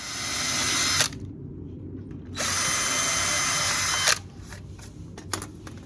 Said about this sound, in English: I'm going to prime a hole first anyway to make it easier.